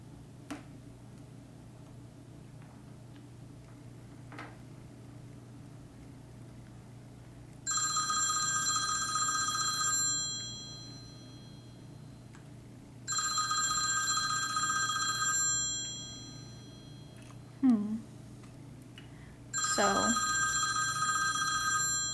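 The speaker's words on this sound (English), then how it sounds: "So we're going to try the loud ringtone again with Quinn." A loud electronic phone ringtone sounds in three separate bursts, each a few seconds long, with quiet pauses and a faint chirp between them.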